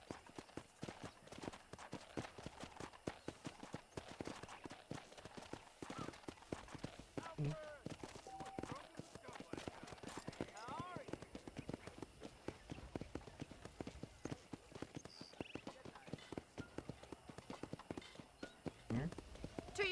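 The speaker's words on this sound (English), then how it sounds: "let's see if you can still ride a horse" Horse hooves clip-clop in a steady riding rhythm in the Western video game Red Dead Redemption, close and continuous while people talk over them.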